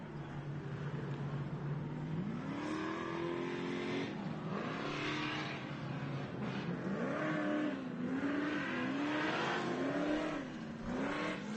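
Off-road race trucks at a short course race roar and rev continuously, engine pitch climbing and falling repeatedly as throttles open, loud and dense with several engines overlapping.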